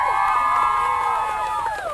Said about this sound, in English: Cheering the guys as they head off.